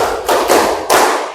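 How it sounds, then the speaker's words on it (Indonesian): A group of teachers claps in unison during a clap-count game, giving a few loud, sharp, close claps in an uneven rhythm that ring briefly in a room. "Tepuk lima tuh gini."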